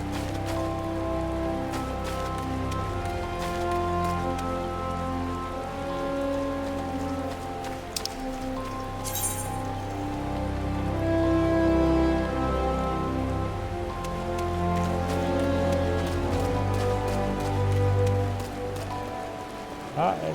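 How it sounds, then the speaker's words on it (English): Steady rain patters continuously on surfaces in the video game Final Fantasy XIV, layered over sustained ambient game music tones throughout. "And it's raining here."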